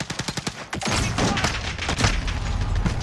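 Rapid burst of video-game gunfire opens, then booming grenade blasts roll in, loud and continuous, with shots crackling through the rumble.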